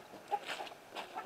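Chickens in a coop give a few soft, short clucks, fairly faint and close, in a brief quiet moment.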